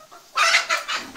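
Hens at a small farm setup cluck in several quick, close bursts after a quiet start, short throaty calls clustered together with no talking.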